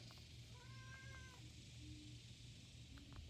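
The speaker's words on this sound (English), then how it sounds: "That's got my cat coming in there." A house cat meows faintly a few times in a drawn-out way over a steady low hum, far from the listener.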